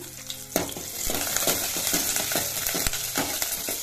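Curry leaves sizzle loudly in hot oil, with repeated scraping and stirring strokes over a continuous crackling fry, heard close up.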